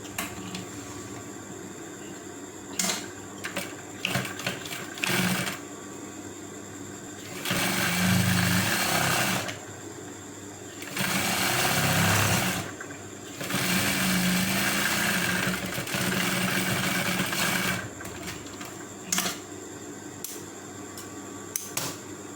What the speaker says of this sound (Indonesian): Kita jahit satu kali lagi.